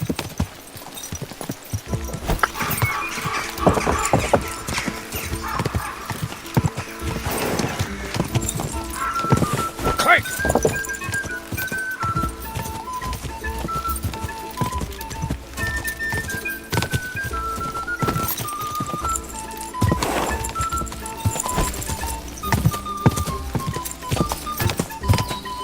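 Horses gallop in the medieval game Kingdom Come: Deliverance, a steady rhythmic clatter of hooves running throughout, with tack jingling, under game music and occasional voices.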